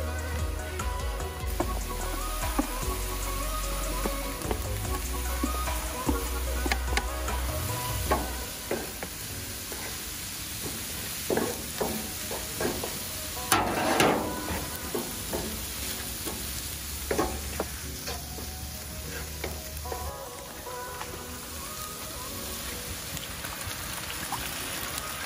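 White wine, curry and a little chili sizzle and fry in a pan, a steady crackling hiss with occasional stirring scrapes, close and continuous with no voices.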